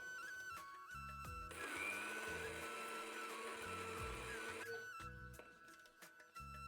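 An electric mixer grinder whirs loudly for about three seconds, grinding soaked rice with beetroot into flour for Assamese pitha, with quieter knocks and clatter before and after the run.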